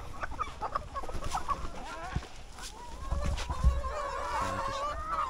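Chickens clucking and squawking as feed is scattered on a farm in Thailand, a busy flock of overlapping calls at close to moderate distance, with scuffling and a few louder thumps and no talk.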